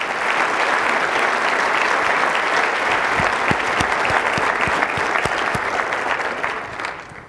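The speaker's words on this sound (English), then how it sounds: "please give them a round of applause for being with Illinois" Guests at a Chicago luncheon give PNC Bank a round of applause, a dense, steady wash of clapping from a large room that holds even and loud before tapering off at the end.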